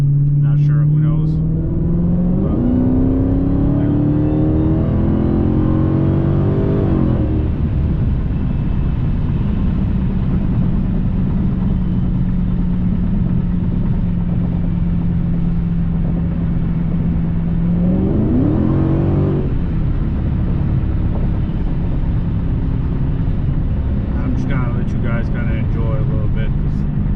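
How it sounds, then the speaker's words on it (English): Dodge Hellcat V8 on the move, loud and close from inside: the engine pulls up through the gears, holds a long steady drone at cruise, then surges again with a rising roar. "The way this car sounds, it's a blast to drive."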